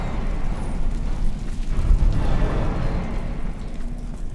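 Incendio fire spell cast in Hogwarts Legacy, a loud rumbling roar of flame that swells to a low booming peak midway and then keeps burning as a dense, steady whoosh.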